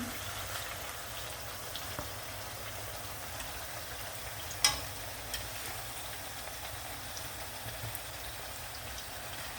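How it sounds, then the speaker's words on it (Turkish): Quiet, continuous sizzle and crackle of eggplant frying in olive oil, with a single sharper pop midway. "Bu şekilde bütün patlıcanlarımı kızartıyorum."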